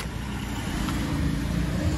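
A passing car, first taken for a taxi, rolls by as a steady low road rumble with broadband traffic hiss, close and continuous for the whole stretch.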